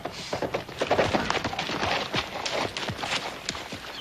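Hooves clip-clop steadily on a hard surface in an irregular walking rhythm, fairly close, with no talking.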